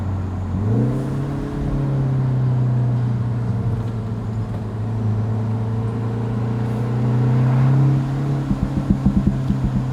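A 2025 Mini Cooper JCW on the road, its engine holding a steady drone that rises briefly, then a short run of crackling exhaust burble pops as the throttle is released near the end.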